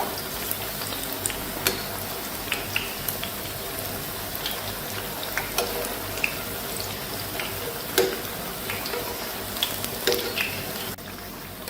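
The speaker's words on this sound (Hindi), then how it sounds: "लेकिन मैं ये फ्राई कर रही हूँ, मैं टिक्की बना रही हूँ।" Pakora-style tikkis frying in hot oil for a Punjabi kadhi pakora, giving a steady, fairly quiet crackle and bubble throughout with small scattered pops, and no talking.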